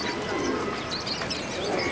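Pigeons cooing in a rooftop loft, soft repeated coos mixed with chirps over a steady background hum, with people talking nearby.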